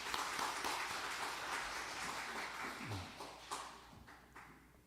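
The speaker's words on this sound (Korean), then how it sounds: "우리 박수 한번 지금." A church congregation clapping during a Sunday service, scattered, loose applause with irregular hand claps and taps that thin out toward the end, fairly quiet and without voices.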